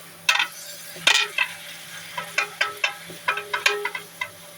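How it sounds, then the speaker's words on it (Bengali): Beans, spinach and potato stir-fried together in a pan, a run of sharp scraping stirs and crackling sizzle, one after another, close and fairly loud, with no voices. "সিম, পালং শাক আর আলু আমি একটু নেড়ে নিলাম, কষাই নিলাম।"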